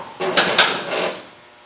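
A gas-strut door mod on a classic '74 Charger muscle car swings shut, ending in two quick, sharp latch clicks close by, with a softer rattle trailing after and a voice in the background.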